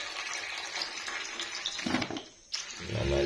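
Water poured out for a group of ducklings, a continuous wet splashing wash that dips briefly near the end before a heavier gush returns.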